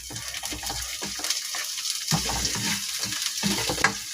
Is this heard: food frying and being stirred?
yes